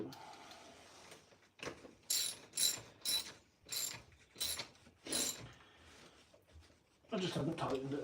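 Wheel tool tightening a wheel back onto an Arrma 6S RC car, a run of six or seven sharp ratcheting bursts in close succession, then a louder clattering burst, with a voice talking underneath.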